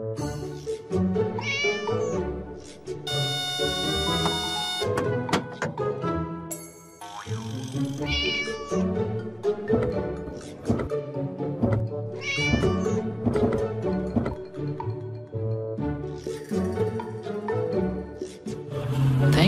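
A cartoon cat meows repeatedly amid bouncy boing effects and music in an animated kids' scene, the mews loud and close, coming in short bursts with no speech over them.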